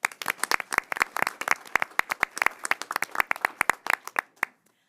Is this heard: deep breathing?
no